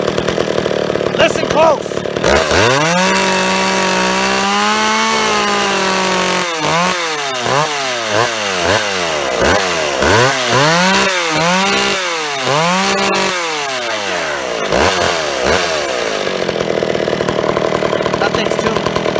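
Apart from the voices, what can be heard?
old chainsaw engine revving during carburetor tuning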